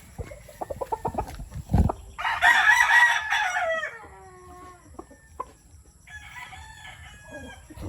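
A brood rooster crows loudly once up close, with short clucks and scattered hen calls around it and a softer second call near the end; no talk.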